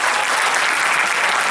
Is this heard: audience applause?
yes